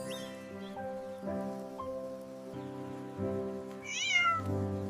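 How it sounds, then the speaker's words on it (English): A cat meows once, a short rising cry near the end, over sustained soft tonal music. "The cat is going home now."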